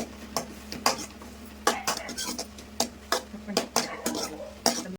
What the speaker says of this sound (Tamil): தக்காளியும் போடுறேன் நல்லா வதக்கணுங்க